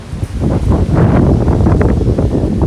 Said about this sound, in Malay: Hari ni angin lain macam weh.